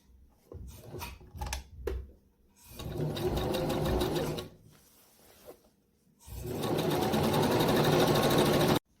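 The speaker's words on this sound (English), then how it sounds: "I'm going to start sewing at the top, sew to where the slider is, slide it up," A sewing machine stitches a seam on a shift dress, with short stop-start bursts, then two long steady runs of rapid needle whirring, loud and close.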